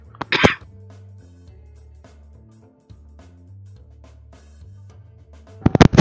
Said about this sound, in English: I need to cough